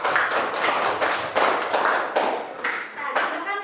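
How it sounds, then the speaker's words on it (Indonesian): A classroom of primary-school pupils claps for a group that has just presented, dense uneven clapping in waves with voices mixed in. "Untuk kelompok 1 kita beri aplaus"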